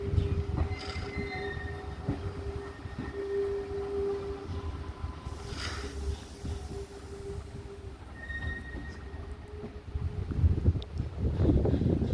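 Steam tank engines running on the Paignton and Dartmouth Steam Railway, a steady rumble of train and carriages rolling along the line with occasional faint wheel squeal and some wind noise throughout.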